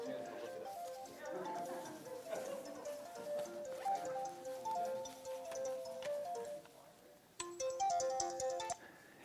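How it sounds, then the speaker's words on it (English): A mobile phone rings with an incoming FaceTime call, a repeating melodic ringtone that sounds steadily and close by, growing louder and brighter near the end with no talking over it. "Oh, that's my phone."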